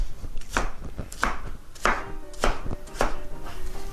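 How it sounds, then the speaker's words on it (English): Large sharp knife chopping food on a cutting board for an onion casserole, six distinct knife strikes at a steady, roughly half-second rhythm, close and fairly loud, with no talking. "After you cut something and you chop it up into pieces"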